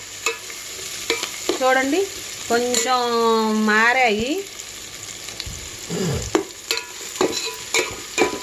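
Meal maker soya chunks frying in a pan as they are stirred, with a steady sizzle and occasional scraping; a person talks over the cooking near the start and again at the end.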